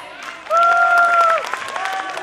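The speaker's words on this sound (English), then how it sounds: "Let's hear it in your claps." Parents and guests clap at a preschool's annual day function. The clapping is scattered and moderate, under a steady held tone.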